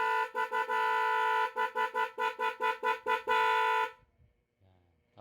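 A motorcycle horn honks in a rapid series of short, loud beeps, then one longer blast, before cutting off to near silence.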